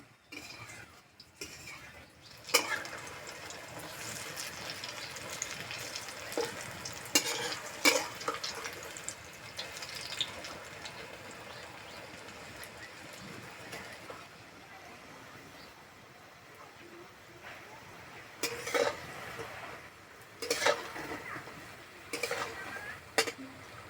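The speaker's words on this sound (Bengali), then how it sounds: "এক মিনিট ভাজা হয়ে গেছে এবার উল্টে দেবো" Semolina fritters frying in hot oil in a pan and being turned over, with a steady close crackling sizzle and intermittent scraping and clinking of a utensil against the pan throughout.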